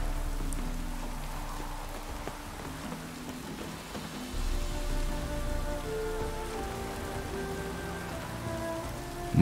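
Rain falls steadily in The Witcher 3: Wild Hunt, a soft, continuous patter on surfaces with faint ambient game tones underneath and no talking.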